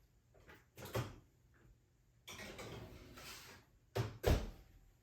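An oven door opening and shutting with knocks and clatter as cakes topped with almond slices go into a 350-degree oven, near and moderately quiet, with bursts of rustling and pan noise between the thumps.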